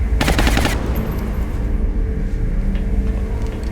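An arc rifle fires in a sci-fi shooter game, a sharp crackling burst up front followed by rumbling battle noise and engine-like background hum, loud with no speech.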